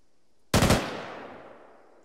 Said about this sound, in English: Hey, we got a static MG.